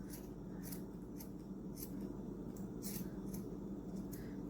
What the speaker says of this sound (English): I'm going to go ahead and I'm going to cut it right across here, straight, below the heel